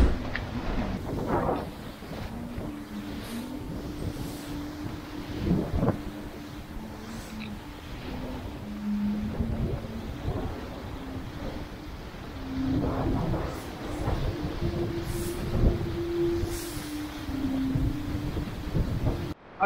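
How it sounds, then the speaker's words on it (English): Strong offshore wind of 22 to 25 knots roars steadily past a Mini 6.50 sailboat surfing fast over the sea, a broad close rush with gusty swells, splashing surges and a low humming tone running underneath. "There is 22 to 25 knots of wind at the moment."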